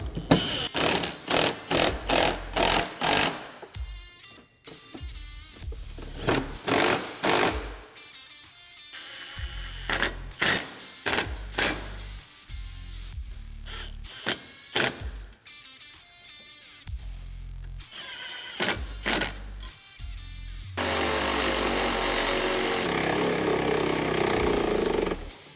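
A power tool runs in repeated short bursts while tightening bed enclosure hardware on a Polaris RZR Turbo R, loud and close with gaps between bursts, ending in a longer steady run.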